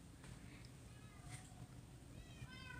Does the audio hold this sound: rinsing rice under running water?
no